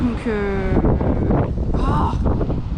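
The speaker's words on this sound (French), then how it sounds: "Attendez, le vent là, on va se calmer tout de suite." Wind buffets the microphone in heavy low rumbles throughout, with a voice speaking French over it outdoors in Angra do Heroísmo, Azores.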